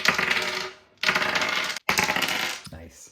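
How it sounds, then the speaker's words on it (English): Dice roll for a tabletop game character in three quick clattering bursts, each a rapid rattle of small hard pieces tumbling and settling, close and fairly loud. "So I need to roll dice to determine how many years"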